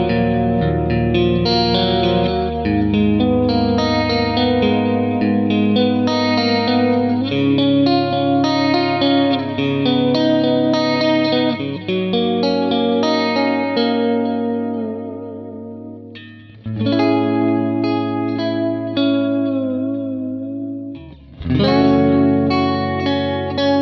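Custom Fender Stratocaster electric guitar with a shimmering chorus effect, chords and single notes ringing out loudly with a few short pauses between phrases.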